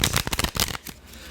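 Tarot cards are shuffled up close in a quick run of soft riffling flutters, then a few quieter taps as the deck settles.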